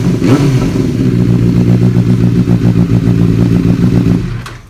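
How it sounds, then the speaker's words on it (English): Royal Enfield Continental GT motorcycle fitted with an Exile aftermarket exhaust, starting and settling into a loud, close, throbbing idle with a steady rapid thump before cutting off abruptly near the end. "We plan to start this bike, and he has put a extreme exhaust by Exile, right?"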